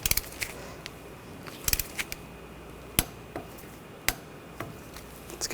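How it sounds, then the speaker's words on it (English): A torque wrench tightens a brake hose bolt on a 2015-2020 Cadillac Escalade, giving a handful of sharp, isolated metallic clicks spaced irregularly over a quiet background, close and fairly faint. "Now we're going to torque this bolt to 30 foot-pounds."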